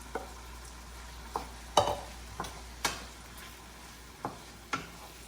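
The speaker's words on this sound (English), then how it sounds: "Now it's time to add our rice and dal mixture. And you're gonna let that toast around." Rice and dal mixture being stirred and toasted in a pan for kichuri, with a faint steady background hiss and a series of sharp spoon scrapes and clinks spaced irregularly across the stretch.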